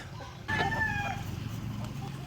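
A rooster crows once, an offspring of an Asil and a Brazilian Shamo hen on a farm: a clear, fairly close call with a harmonic rising-then-held shape, lasting about three-quarters of a second over steady low background rumble.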